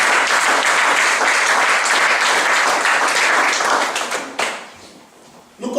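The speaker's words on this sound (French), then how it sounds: "Est-ce que nous pouvons acclamer le Seigneur?" A church congregation applauds in praise of the Lord, a dense, loud wash of clapping that holds steady for several seconds and then quickly fades to near silence.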